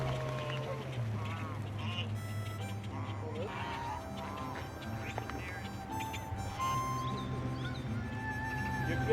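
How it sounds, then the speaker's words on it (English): Honking geese herded off an Arizona island by kayaks, with loud overlapping calls in a busy outdoor scene and voices talking throughout. "the remaining geese were herded off the island and into the hands of the waiting goose wranglers"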